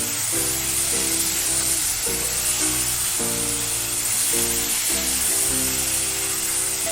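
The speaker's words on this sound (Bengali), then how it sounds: "এবার ভালো করে কষে নেব মাংসটা।" Chicken pieces with chilli powder sizzling and hissing steadily in a hot pan, with recurring scraping and clanking as they are stirred, close up with no speech.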